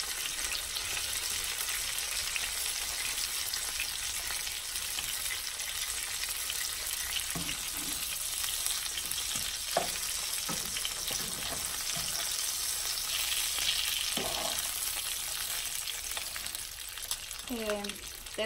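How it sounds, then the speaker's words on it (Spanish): Breaded chicken breasts fry in hot oil with a steady, dense sizzle, broken now and then by soft clinks and scrapes of a utensil in the pan. "Termino de cocinar las pechugas empanizadas"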